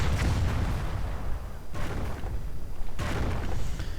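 Nebelwerfer rocket artillery in Company of Heroes, heard as a sustained roaring barrage with heavy low rumble and two sharp new bursts partway through, loud and continuous with no voices.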